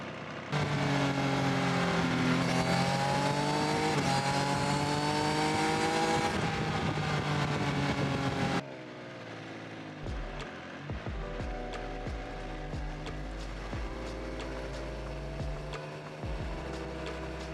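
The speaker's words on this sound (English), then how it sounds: "here is a little insert to show you exactly how it sounds and exactly how much fun this motorcycle is" A 2022 Triumph Speed Triple RR sport motorcycle engine revs hard and high, rising and falling in pitch, then drops to a lower idle with throttle blips and rumbling pops.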